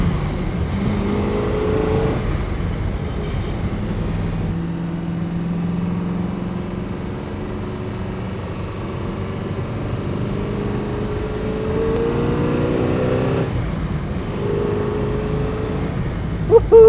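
Engine of a 1969 Chevrolet Camaro Z28 cruising at about 3,000 RPM, a steady deep drone heard from inside the car. Its pitch shifts slightly and it runs continuously with no talking.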